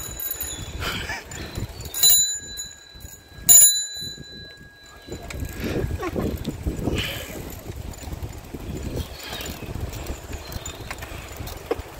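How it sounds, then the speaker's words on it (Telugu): A bicycle bell rings out clearly during a ride past the tulip fields of the Netherlands, two bright separate rings early on, followed by rolling road noise and soft background murmur. "బెల్ కొట్టుమా."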